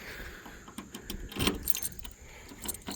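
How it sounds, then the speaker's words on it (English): A separate set of trunk keys for a 1970 Oldsmobile Cutlass Supreme jingles in short metallic bursts, with a louder rattle near the middle, against quiet background noise. "so we got a separate set of keys for the trunk"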